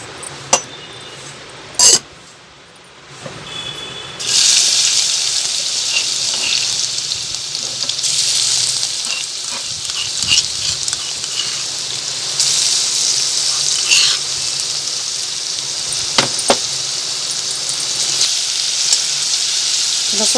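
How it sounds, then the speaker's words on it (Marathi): Garlic frying in oil in a wok: after a couple of sharp clinks and a short lull, a steady loud sizzle starts and runs for the rest of the clip, with occasional utensil knocks and tapping over it. "त्याच कढईत आपण तेल घालून लसूण घालू।"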